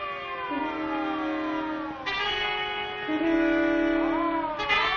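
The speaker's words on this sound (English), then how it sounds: "It's a siren. Probably an ambulance or a police car." A wailing siren sweeps up and down in pitch, steady and fairly loud, with rising and falling tones overlapping throughout.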